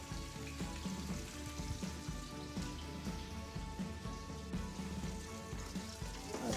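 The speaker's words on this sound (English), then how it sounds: "I'm going to put in onions and 2 to 3 cloves of garlic" Onions and garlic frying in a pan for a sausage cassoulet, a steady dense sizzle and crackle running evenly throughout, close and moderately loud with no talking.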